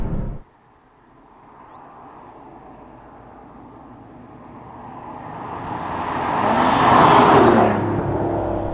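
An Aston Martin DB9 GT Bond Edition engine idles low and then builds into a rising rev with a throaty swell, fairly near, easing back slightly at the end, with no talk.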